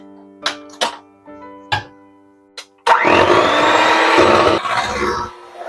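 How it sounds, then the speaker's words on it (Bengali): An electric mixer starts up partway through, whirring loudly and steadily as it beats whipping cream with icing sugar, after a few separate knocks and clunks beforehand. "হুইপিং ক্রিমটাকে বিট করে নেব।"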